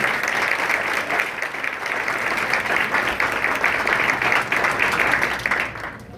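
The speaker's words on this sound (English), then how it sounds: "If we could give them a round of applause." At a South Brunswick education foundation gala, guests applaud the participating restaurants. Steady, fairly loud clapping from a sizable crowd holds evenly for several seconds, then tapers off near the end.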